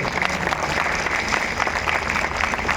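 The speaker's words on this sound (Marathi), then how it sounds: "एकदा जोरदार टाळ्या सगळ्यांनी भाजल्या" A large crowd at a Yoga Day celebration in Sangli claps loudly, a dense and continuous burst of applause with no pause.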